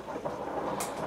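Steamers in a paper filter machine produce a low, continuous bubbling and rumbling murmur, faint and steady, with a brief brighter gush near the end.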